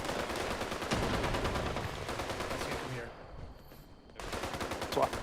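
A .50 caliber machine gun in a video game fires in sustained rapid bursts, loud and dense, breaking off briefly before resuming, with voices talking over the shooting.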